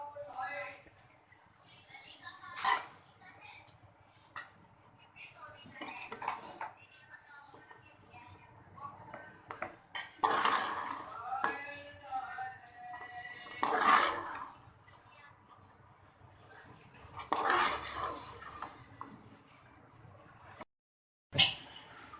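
Chicken and vegetable masala pasta being served onto a plate, with scattered scrapes and clinks of a utensil against dishware, some louder knocks near the end, and a voice speaking intermittently.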